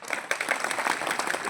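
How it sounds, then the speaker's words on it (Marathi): An audience applauds the organizers at a devotional discourse gathering, a dense, continuous burst of many hands clapping at close range. "सगळ्यांनी आमच्या संयोजक मंडळीसाठी टाळ्या वाजवा"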